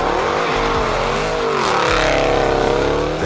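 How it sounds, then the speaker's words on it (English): Dodge Challenger SRT Hellcat with a 707-horsepower supercharged engine, revving loud and close with rising pitch and a building supercharger whine, heard alone without talk. "The Hellcat's supercharger whine at wide-open throttle is pure mechanical theater."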